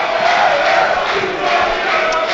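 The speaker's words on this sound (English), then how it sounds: "that was met with a warm round of applause from the fans here" Football fans applaud and cheer in a stadium at a National League match between Gateshead and Woking, a steady, dense crowd roar held at a constant loud level throughout with no talk.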